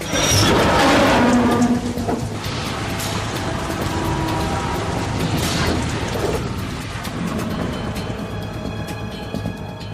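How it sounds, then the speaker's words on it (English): Steady rain and rumbling thunder in the Metal Gear Solid 2 video game, a loud continuous wash of downpour with a swelling thunder roll near the start and softer rumbles later, no talking. "It stopped raining."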